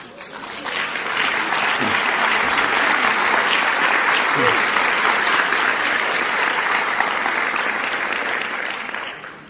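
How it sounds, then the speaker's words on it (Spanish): Conference audience applauding steadily, a dense, even roll of clapping that swells in, holds for several seconds and fades, with a couple of brief voices underneath. "Avi, me parece que ellos que te están aplaudiendo."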